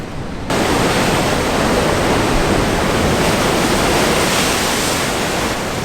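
Heavy ocean waves crash over the harbour wall at Cudillero, a loud continuous roar of surf and spray that sounds close and overwhelming and holds steady throughout.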